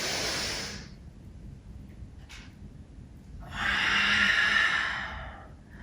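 Breath during a yoga session: a long airy exhale at the start, a brief soft catch mid-way, then a fuller rising inhale, close and quiet with nothing else heard.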